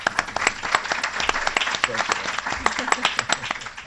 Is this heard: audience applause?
yes